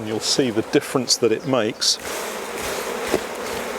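A person speaks briefly while shaking honey bees off a frame into a brood box during a nucleus colony install, then a steady buzz of the bees hums on alone, close and continuous.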